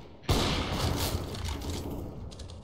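Gunfire in a Counter-Strike (CS:GO) match, a sudden loud burst that rolls into sustained rapid shooting and echoing booms for a couple of seconds, with no talk over it.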